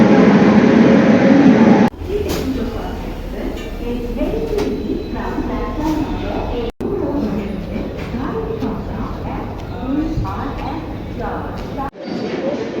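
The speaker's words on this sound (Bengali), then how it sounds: "একটা ট্রেন এখন এসে পৌঁছেছে" A train pulls into Kharagpur railway station with a steady mechanical rumble beneath busy crowd voices on the platform, broken by a couple of abrupt cuts.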